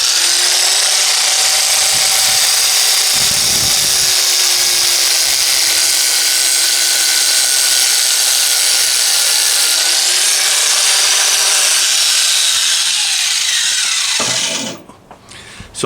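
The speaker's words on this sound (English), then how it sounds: "I did get out a grinder, and the grinder is doing pretty decent" A grinder cuts through a metal garden tool with a loud, steady, high-pitched whine lasting about fourteen seconds before winding down and stopping near the end.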